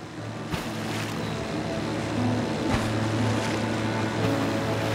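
A boat sails across open water in the video game Submerged, giving a continuous engine drone with rushing water and wash, steady and close, with a couple of soft thumps from the hull.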